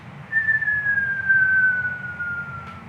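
A voice whistles in imitation of a falling bomb, one clear descending whistle lasting about two seconds over a low background rumble.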